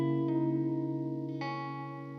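An electric guitar runs through a spring reverb fed by a small blue Accutronics tank. Two plucked notes ring out clean and bloom with a lingering, splashy reverb tail that slowly fades.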